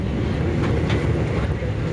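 Steady rumble and rattle of a passenger train riding from Bangkok toward Malaysia, heard from inside the carriage as a continuous loud roar with faint wind noise.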